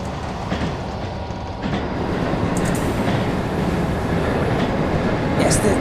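A train in a simulator game runs loudly on rails in low-grip snowy conditions, a steady broadband rumble with rattling wheel noise and faint squeals, close and continuous.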